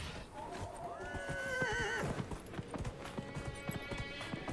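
Horse in the fantasy game Dragon Age Inquisition, hooves clip-clopping in a steady rhythm with a clear whinny partway through, close and prominent.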